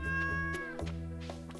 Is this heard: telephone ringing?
no